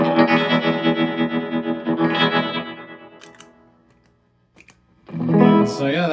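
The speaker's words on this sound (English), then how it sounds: "I could put them together. Have a really crazy trem sound." An electric guitar plays sustained, heavily warbling chords through stacked tremolo effects with a pulsing, shimmering modulation, then fades to near silence before a final strummed chord swells back in.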